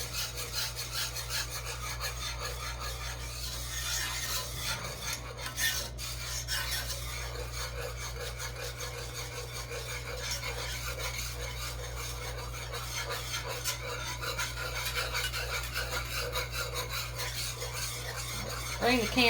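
A spoon scrapes and stirs a thickening breakfast casserole in a cast iron skillet, giving a steady close-up rasping and rubbing over a low continuous hum, with no talking.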